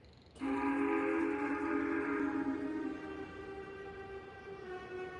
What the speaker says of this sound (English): Suddenly, he and Percy heard a whistle from another engine, which was coming from the darkness ahead of them